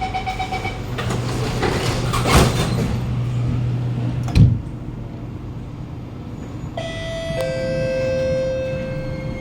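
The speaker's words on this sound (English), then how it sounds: "Doors are closing." An SMRT C751B train's doors closing, with a short rising door chime, a brief thud as the doors shut, then steady cabin rumble and a tonal electronic whine near the end as the train prepares to move.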